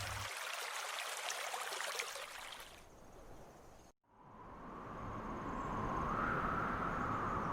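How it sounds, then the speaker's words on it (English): Steady broadband water rush of a flowing stream, continuous and fairly close, with a brief dip partway through before the babbling resumes. "And then there's a babbling brook that you'll hear as well."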